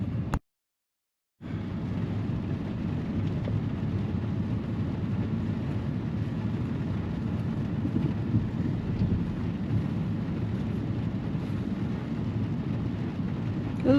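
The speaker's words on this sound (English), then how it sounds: "This is a good storm." Thunder from a thunderstorm with light rain at Big Bear, California: a long, low rumbling roll that goes on after a short silence near the start, fairly distant and steady, with no speech.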